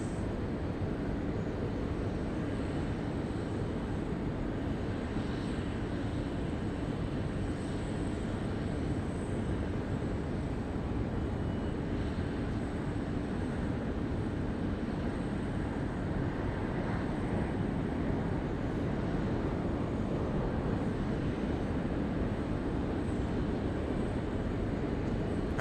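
Velocity Boeing 737-800 jet at Sydney Airport, a steady, broad engine roar sustained throughout, moderately distant and constant with no talk over it.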